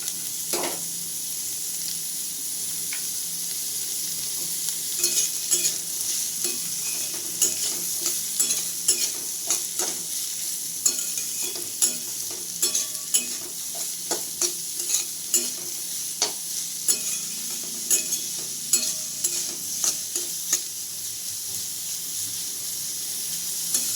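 Vegetables for egg chowmein sizzle in a hot pan while a utensil stirs and scrapes in repeated clicks and knocks, steady and close, with no talking.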